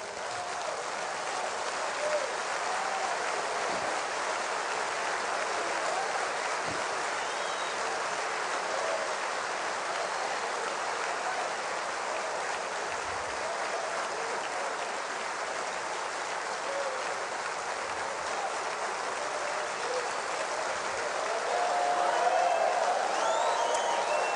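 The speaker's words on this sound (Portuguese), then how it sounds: "queria pedir que de pé nós aplaudíssemos a Deus" A large church congregation applauds while standing, a dense, continuous wash of clapping that holds steady and swells slightly near the end.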